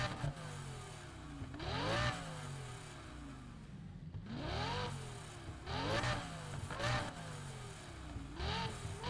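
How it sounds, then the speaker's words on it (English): A heavy car engine revs repeatedly in rising sweeps, roughly four climbing pulls that each drop back before the next, loud and close with no talking. "I just like the good sound of heavy car."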